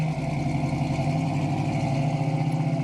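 Steady, fairly loud engine drone from a 1972 Dodge Challenger slowing and downshifting into first gear on a test drive, holding a constant low rumble throughout with no voices.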